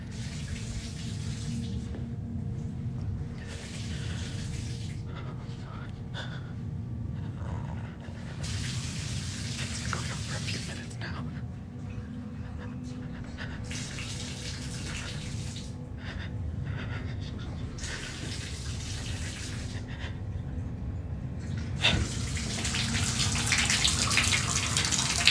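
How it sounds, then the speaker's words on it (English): A bathtub water tap runs in repeated bursts of gushing, splashing water, cutting off and starting again several times, with steady low rumbling underneath and no voices. "the water in my tub is turning on and off and on and off"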